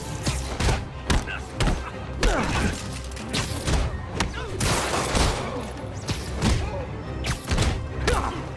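Gunfire in the Marvel's Spider-Man video game, bursts of shots mixed with thuds, crashes and impacts in a busy fight, with shouting voices over the action.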